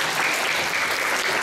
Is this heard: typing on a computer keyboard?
no